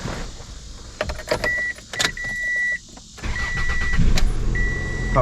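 A Toyota RAV4 engine cranking and starting after a charging system repair, with clicks and bursts of starter noise, then a steady engine idle rising near the end.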